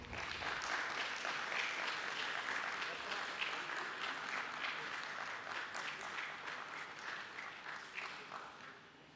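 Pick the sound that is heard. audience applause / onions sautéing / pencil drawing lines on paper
audience applause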